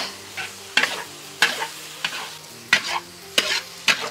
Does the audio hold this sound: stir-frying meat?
yes